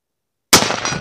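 A single sharp, loud rifle shot from a Mossberg MVP Patrol .308 cracks after half a second of silence, followed by a short echoing tail outdoors.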